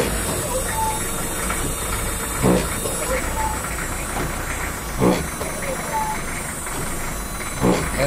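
A 1981 Peugeot 604 turbo diesel running roughly and low on fuel, its engine holding a steady rattling idle with a hiss, broken by a soft thump every few seconds as it stumbles, under faint background talk.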